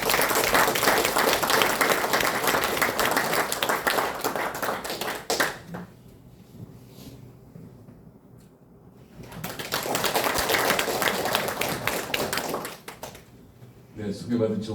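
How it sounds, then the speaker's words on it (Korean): An audience at a lecture hall welcomes a former prime minister to the podium with a long burst of dense applause, a quieter gap partway through, then a second wave of clapping. "모두 큰 박수로 환영해 주시기 바랍니다."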